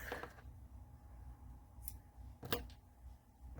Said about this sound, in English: I'm going to go ahead and trim it off.